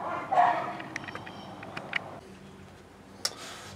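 Dogs near a parked 1977 GMC Kingsley motorhome give a few short, sharp barks early on, followed by quieter clicks and a faint yip later, with no talking.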